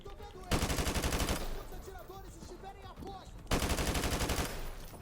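Loud automatic AK rifle bursts in Call of Duty Modern Warfare 2 Remastered: two dense rapid-fire volleys, one at the start and one later, with game sounds in between.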